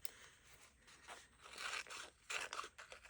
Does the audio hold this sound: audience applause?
no